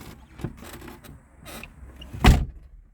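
Door of a Zastava 1100p car slammed shut: a single sharp, loud thud near the end, preceded by faint clicks and handling noises at close range.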